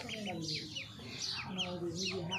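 Ducks kept at a village home call in repeated short quacks and chirpy notes, close and fairly steady, with several birds overlapping.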